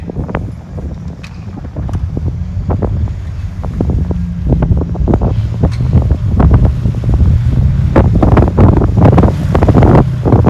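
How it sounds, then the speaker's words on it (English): Strong gusting wind buffets the microphone outdoors near a pond at a golf course, where a lifted Ford F350 goes mudding, giving a steady loud rumble with repeated sharp thumps and no talking. "It is breezy today."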